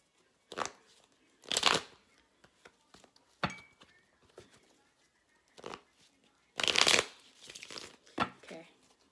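Tarot cards are shuffled in bursts, several brisk riffling and slapping flurries spaced across the stretch, close and fairly quiet, with no talk over them.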